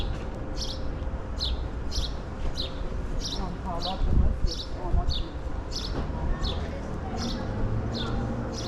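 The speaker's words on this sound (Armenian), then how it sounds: "ծտերը երգում են" Sparrows sing outdoors near a market street on a windy day, a steady series of bright, regularly repeated chirps over rustling wind and background noise, with a person talking partway through.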